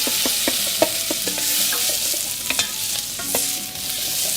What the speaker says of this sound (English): we're going to give that a mix in. That'll brown them off.